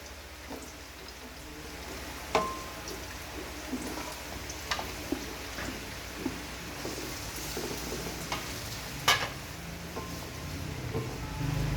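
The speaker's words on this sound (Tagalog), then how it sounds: "Kaya lagisa na natin ang ating bawang sibuyas." Garlic and onion sautéing in a pan, a steady soft sizzle with occasional clinks and scrapes of stirring, fairly quiet and close.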